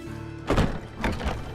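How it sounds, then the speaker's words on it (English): A wooden door swinging shut in the game Witcher 3, with two dull thunks about half a second apart over faint ambient background. "Is this the only manually opening and closing door in the game?"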